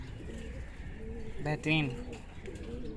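Slim, high-bred pigeons with feathered feet in a loft coo in a brief low, soft burst, heard under and between a man's speech.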